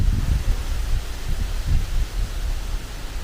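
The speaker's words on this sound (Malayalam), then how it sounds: "രാവിലെ തൊട്ട് മഴയൊക്കെ പോലെ വന്നെങ്കിലും ഒരു മഴയും പെയ്തില്ല പക്ഷെ കാറ്റ് സൂപ്പർ കാറ്റാണോ" Strong wind rushing through trees on a dry day, producing a continuous low blustery roar with surging gusts and faint leafy rustle, close and steady with no voices.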